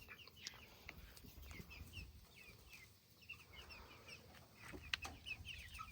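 Several chickens cluck and murmur softly in short scattered calls, fairly quiet and close, with light rustling in the background.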